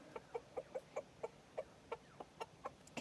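A rooster clucks in a quick series of short, evenly spaced calls, fairly faint, with no talking.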